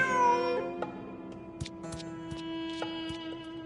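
A game cat in Genshin Impact gives a few short, clear meows over a soft, sustained musical background, close and distinct, with no talk.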